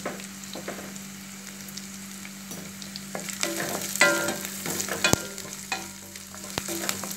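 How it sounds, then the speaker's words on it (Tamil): Chopped onion sautéing with salt in a pan for cumin rice, a soft steady sizzle broken by scraping spatula strokes and light clinks, growing busier toward the end, with no voices. "நல்லா வணக்கிக்கலாம் வெங்காயத்தை."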